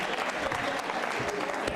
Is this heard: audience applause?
yes